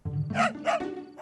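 A dog gives a couple of gruff, low barks close by, short and throaty.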